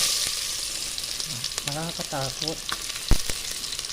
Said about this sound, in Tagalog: gigisa na natin. Pagsabay na natin ang bawang at sibuyas.